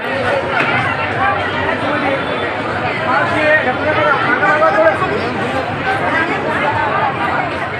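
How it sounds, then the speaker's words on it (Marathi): A large crowd of devotees packs the Shri Vighnaharta Chintamani temple in Hingoli, a loud, steady hubbub of many overlapping voices chattering close by throughout. "श्री विघ्नहर्ता चिंतामणीच्या दर्शनासाठी भाविक भक्तांनी तुफान गर्दी केली होती"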